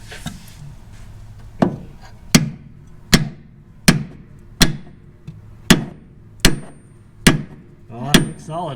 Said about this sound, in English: I think use a hammer, try and drive it out.